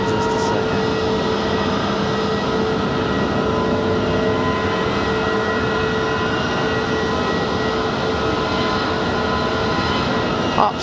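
A Frontier Airlines jet on its takeoff roll at Raleigh-Durham International gives a sustained, fairly loud engine roar with tonal whine layered over it, steady for about ten seconds and free of speech.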